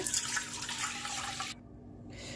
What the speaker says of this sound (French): Dans la cuve du pétrin, je vais tout d'abord préparer mon levain. Pour cela, je vais mettre 200 ml de lait tiède.